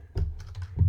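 Short burst of typing on a computer keyboard, a few quick close key taps over less than a second.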